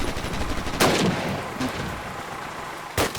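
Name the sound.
gunfire in the video game Call of Duty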